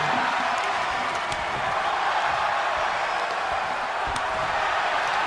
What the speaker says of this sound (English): The crowd are loud and proud to be here at the Debutante Brawl 3